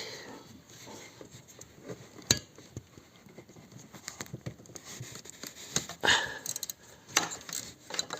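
A bolt is loosened on a Peugeot 407 2.0 HDI engine, with quiet close ratcheting clicks and metallic taps from the tool, irregular and brief, with a few sharper clinks.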